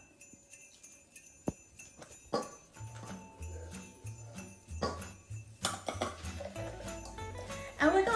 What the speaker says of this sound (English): And we're going to give that a little stir